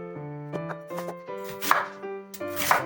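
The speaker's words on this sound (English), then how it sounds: "First, we are going to cut the onions." Onions are being cut with a knife on a board in a home kitchen: a handful of irregular knocks over about three seconds, close and distinct, with a tonal ringing sound running underneath.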